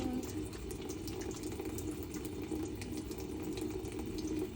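Tap water runs steadily into a sink while hands are scrubbed with friction around a ring, a constant close rushing splash with no voices over it.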